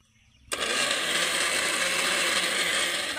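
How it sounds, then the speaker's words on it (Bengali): A mixer grinder starts abruptly after a brief quiet moment and runs loud and steady, whirring as it blends mango and sugar into a paste. "ঢাকনা দিয়ে এবার আমি মিক্সিতে পেস্ট করে নেব।"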